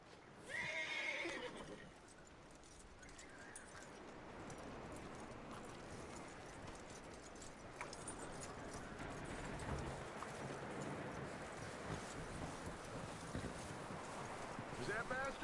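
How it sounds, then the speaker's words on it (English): A horse in Red Dead Redemption 2 gives a loud whinny up front, then hooves clop steadily under wind noise, with voices talking over the footsteps. "That looks like a decent horse."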